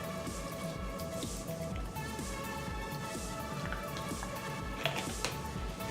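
Regular white vinegar poured into a creamy coleslaw dressing, a soft, steady liquid trickle with faint drips and squishy bowl sounds throughout, close and quiet.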